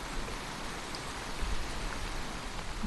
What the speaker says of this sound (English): This must have been the potato grower's greatest fear, a summer of rain like this.